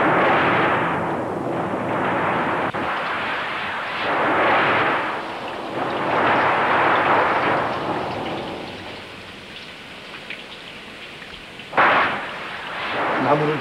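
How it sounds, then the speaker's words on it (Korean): Night thunderstorm with heavy rain hissing steadily while long rumbles of thunder swell and fade in waves, capped by a sharp crack near the end. "천둥번개가"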